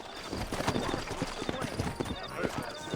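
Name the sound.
horse hooves clip-clopping in Red Dead Redemption (video game)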